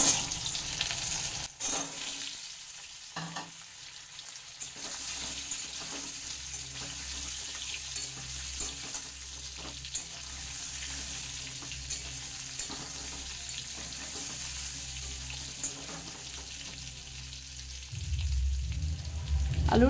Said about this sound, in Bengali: আলুটা আমার 2 মিনিট ভাজা হয়ে গেছে